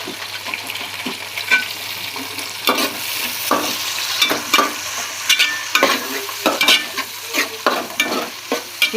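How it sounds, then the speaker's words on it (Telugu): Tomatoes frying with browned onions for a gongura meal maker pulao, a close, steady sizzle broken by irregular scraping and stirring strokes against the pan, with no voices. "ఈ టమాటా కూడా మెత్తబడిందాక వేపుకుందాం"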